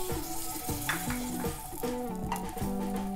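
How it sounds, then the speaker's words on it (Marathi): Butter melts in a pan as the base for tomato soup, giving a soft, continuous sizzle with light stirring, heard faintly over a quiet tonal background. "तर सर्वप्रथम मी 2 टेबलस्पून इतकं यात बटर घालते।"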